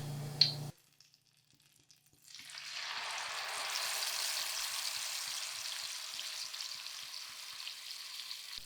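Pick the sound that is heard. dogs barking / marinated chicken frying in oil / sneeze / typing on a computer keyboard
marinated chicken frying in oil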